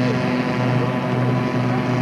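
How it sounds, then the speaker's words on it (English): Model aeroplane engines at a 1994 Telford model show run in a steady, continuous drone with a strong buzzing tone, moderately loud and unbroken, with no talk over them. "there's only two engines working on that aeroplane"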